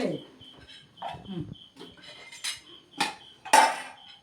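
Kitchen vessels and utensils clatter while being picked up and handled, making irregular close clinks and clanks in short bursts, with a faint voice in between.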